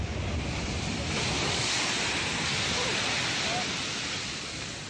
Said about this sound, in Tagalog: Walang humpay ang hampas ng alon